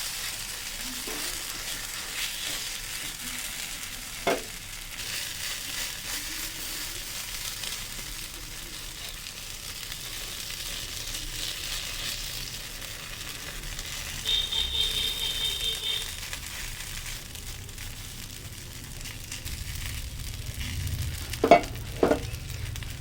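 Oil hisses and sizzles softly on a hot griddle while being spread thin for bottle gourd pitha, a steady low crackle with a few brief clinks and a short faint beep.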